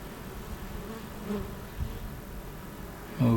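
Honey bees buzz around an open hive box while the brood is being broken down, a steady low insect drone close by with light handling knocks and a louder thump at the end.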